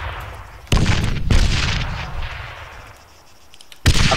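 Booming explosions and gunfire in the military shooter ARMA 3 come as three sharp, heavy blasts with rumbling decay between them, close and loud, with no talking.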